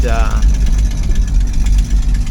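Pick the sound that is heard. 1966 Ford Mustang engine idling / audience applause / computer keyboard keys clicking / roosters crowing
1966 Ford Mustang engine idling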